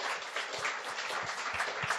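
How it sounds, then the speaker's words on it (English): A big round of applause from a crowd at a startup investment summit finale, cheering the finalists: dense, lively clapping with a few sharper nearby claps standing out, continuous across the moment. "let's do one more last big round of applause"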